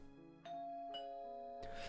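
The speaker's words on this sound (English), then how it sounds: "Suddenly the doorbell rings, so go to the front door and open it." A two-tone ding-dong doorbell rings out in a video game, clean and fairly close, followed by a soft burst of noise at the end.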